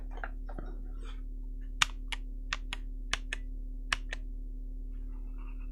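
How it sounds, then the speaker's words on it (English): Computer keyboard keys are pressed one at a time, about eight to ten crisp separate clicks in irregular rhythm, close and fairly quiet over a steady low electrical hum. "It could be like a click from the keyboard."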